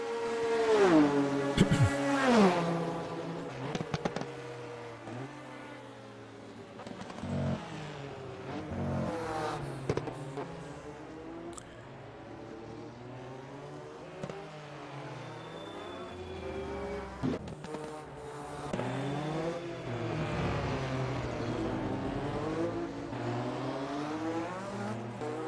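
Racing engines from Lancia and Porsche endurance cars in the rFactor 2 sim at Le Mans whine and rise through gears, with repeated revving sweeps, downshifts and passing cars across a continuous, moderately loud stretch.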